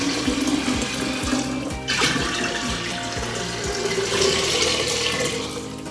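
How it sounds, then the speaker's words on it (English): Filtered water pours steadily into a sugary tea mixture for homemade kombucha, a close, continuous splashing flow with a series of rhythmic gulps and glugs from the pouring vessel. "Then I'm gonna add in the 14 cups of filtered water."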